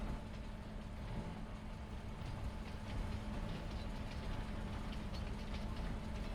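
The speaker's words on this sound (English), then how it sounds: "Sound like a good train simulator here in Farming Simulator" A train in Farming Simulator 25 rolls along steadily, heard from the rear cab, with a continuous low rumble and faint rail clatter at an even, sustained level and no talking.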